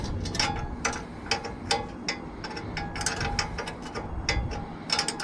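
A hand ratchet turns a 10mm bolt in a cramped spot while fitting Pyramid Plastics belly cheeks on a KTM 1290 Superduke R, giving repeated close, crisp clicking bursts in an irregular rhythm.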